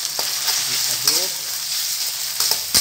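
Sambal balado is stirred in a frying pan over a steady loud sizzle, with occasional scrapes and clinks of the spoon against the pan.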